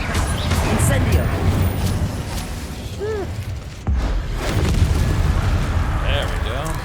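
An Incendio fire spell bursts in Hogwarts Legacy with booming, crackling blasts among other spell effects, while someone talks over the combat.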